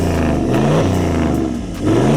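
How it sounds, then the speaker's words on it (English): A Toyota Land Cruiser 76 series with a 4-inch exhaust and DPF delete revs hard, deep loud engine roars climbing and falling in pitch through two or three throttle blips, close up with no voices. "exhaust for this big 76 here, 4-inch all the way through. And it's got a DPF delete as well. So super loud"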